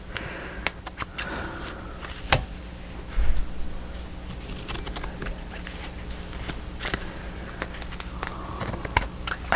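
Scissors snip through a sheet of 12x12 patterned craft paper while trimming pieces for a small 3x3 no-sew journal, giving a string of crisp, close cuts and paper rustles in a quiet room.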